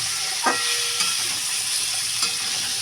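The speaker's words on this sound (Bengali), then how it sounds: "ভালো করে নাড়ি চাড়িয়ে নেবো।" Spiced fish curry masala being stirred in a pan, with a steady frying sizzle and hiss and a few soft scrapes of the spoon, close and even, with no talk.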